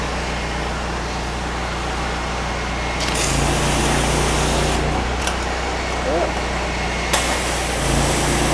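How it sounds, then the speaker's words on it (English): A curbside cleaner sprays water under pressure in a loud, hissing rush against a constant engine drone. The spray cuts in and out in bursts, with a person speaking over it. "I'm going to hold it away so you can see the spray pattern."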